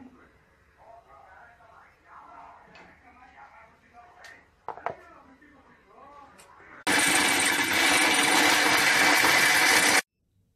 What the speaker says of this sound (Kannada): ಒಂಚೂರು ನೀರು ಪಾರ್ದು ಇತ್ತೆ ಅವೇನು ಮಾತ ಮಿಕ್ಸಿ ಮನ್ಪುಗ